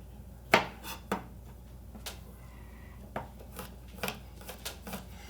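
A knife chopping garlic cloves into a fine dice on a board, sharp irregular taps scattered through a quiet kitchen.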